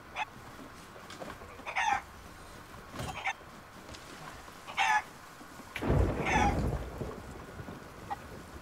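Chickens in the Sea of Thieves video game, heard as a few short, sharp clucks and squawks spaced apart over quiet background, with a low rumbling surge midway through.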